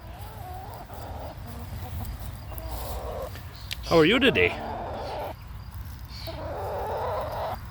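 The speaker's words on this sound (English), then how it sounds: "we also, like I said, have very happy chickens" Chickens cluck and call nearby in a garden, one squawking loudly in the middle, over a steady outdoor hum while a person speaks briefly.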